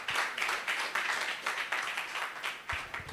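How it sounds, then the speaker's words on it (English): A conference audience at an emergency medicine society event claps steadily to welcome a speaker, fairly faint and distant, a dense even patter of many hands lasting a few seconds. "So please let's welcome her with a round of applause."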